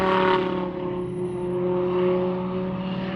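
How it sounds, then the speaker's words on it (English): A powerful V10 engine roars at a steady high pitch, a sustained droning tone that swells slightly and stays loud throughout. "these V10s sound amazing"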